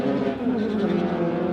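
A dedicated race car built as a track car, not road registered, drives with a loud, sustained engine drone that rises slightly in pitch, close and without talking.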